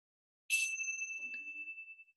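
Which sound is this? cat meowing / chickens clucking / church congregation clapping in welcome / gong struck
gong struck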